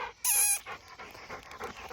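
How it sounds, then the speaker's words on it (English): A pit bull lab mix dog lets out a short, loud yelp or whine near the start, followed by softer snuffling and movement sounds up close. "He's a pit bull lab mix."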